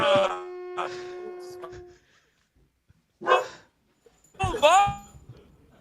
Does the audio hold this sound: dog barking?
yes